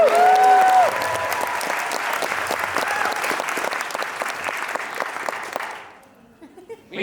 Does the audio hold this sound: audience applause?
yes